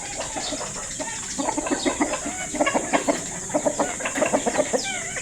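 Bantam chickens on a small farm cluck in rapid, uneven bursts that grow busier toward the end, with a few hens calling at once close by over a faint steady hiss.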